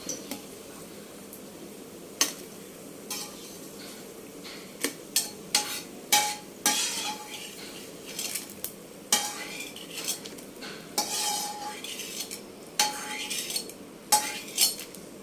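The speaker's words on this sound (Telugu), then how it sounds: "సిమ్లో పెట్టి రెండు స్పూన్లు ధనియాలు వేగిపోయినాక పక్క తీసుకోవాలి" Coriander seeds being stirred while they dry-roast in a pan, a spoon scraping and clinking against the metal in irregular strokes over a soft background hiss, close and clear with no voices.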